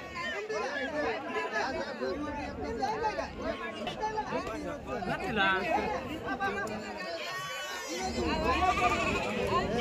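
Young ram lambs bleat repeatedly at a busy rural livestock market in Kookampalli, their overlapping calls rising over steady background chatter and people talking nearby.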